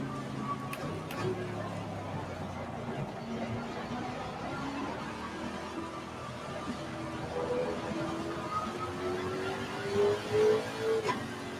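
A race car engine in a sim racing video game drones and revs steadily with rising pitch sweeps, with talk running over it throughout.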